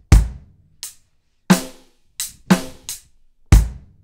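Beginner drum beat on a kit, with kick, snare and hi-hat strikes in a sparse, steady groove; about seven sharp hits, close and loud, with no talking.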